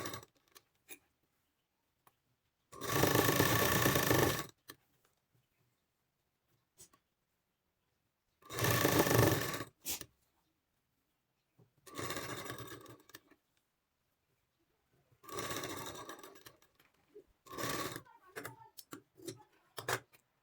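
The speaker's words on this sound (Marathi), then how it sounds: "जेव्हा आपण मशीन स्टॉप करतो तेव्हा आपली सुई कपड्यामध्ये फिट बसलेली पाहिजे" A sewing machine stitches along the neckline of a cloth garment in four or five separate bursts, each a loud, rapid mechanical whirr lasting a second or two. Quiet pauses and small clicks fall between the bursts, and no one speaks.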